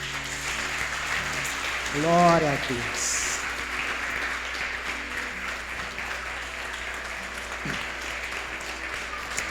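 Church congregation at a Sunday celebration service applauding, broad clapping running throughout beneath a voice speaking, with a brief sung or tonal passage near the start.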